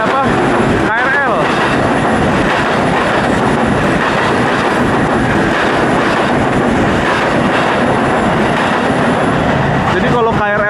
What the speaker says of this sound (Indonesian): Jadi kalau KRL lewat seperti itu, bener-bener bising banget suaranya